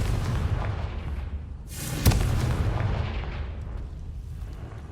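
A spell explosion cast in Hogwarts Legacy bursts once with a sharp crack and a rumbling boom, set against a steady loud bed of game ambience and music.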